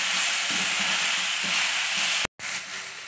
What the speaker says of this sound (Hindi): अब हम फिर से भुनाई करेंगे।